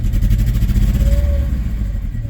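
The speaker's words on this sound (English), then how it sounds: "after letting it idle for a minute, it's starting to smooth out." An abandoned beater car running on bad gas idles roughly, a loud, steady low engine rumble with uneven pulsing throughout, close by and without talk.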